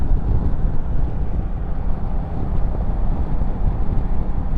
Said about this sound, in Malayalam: നല്ല കാറ്റുണ്ട് കേട്ടോ ഇന്ന്